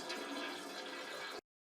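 A toilet flushes during an online Supreme Court hearing, a steady rush of water heard alone for over a second before cutting off abruptly into silence.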